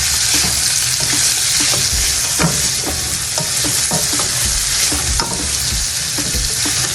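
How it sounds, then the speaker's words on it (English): Cut peppers and onions hit a hot pan and fry loudly: a dense, constant close-up sizzle with bursts of crackle and the light knocks of stirring throughout, with no voices. "I'm gonna just add my peppers and all my onions that I cut earlier"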